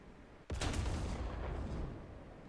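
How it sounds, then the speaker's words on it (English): A tank cannon fires at an IS-3's cupola in the War Thunder video game: a single sudden heavy blast, followed by a rumbling roar that slowly fades over a couple of seconds, with no voices. "I decided to take a shot at his cupola first"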